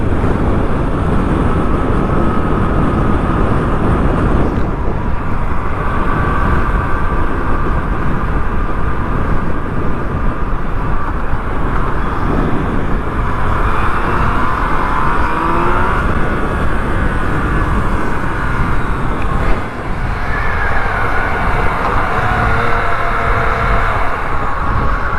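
A 2020 Yamaha MT-09 motorcycle on a test ride, its engine droning steadily and loudly throughout under heavy wind rush, with slight pitch shifts as the rider changes gear; no talking.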